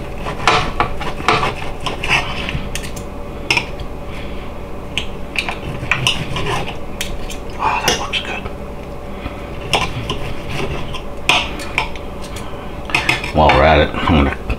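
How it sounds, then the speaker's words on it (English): Knife and fork scrape and clink against a plate while an air-fried pork chop is cut, sharp metallic taps and grinding rubs recurring in uneven bursts, close by, with someone talking intermittently. "let's cut up some of this pork chop here"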